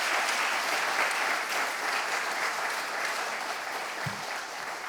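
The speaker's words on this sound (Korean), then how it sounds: "이 시간 나오실 때에 뜨거운 박수로 환영해 주시면 감사하겠습니다." Warm, sustained applause fills a church as a visiting preacher is welcomed forward to the pulpit, steady and dense throughout, with one soft low thump near the end.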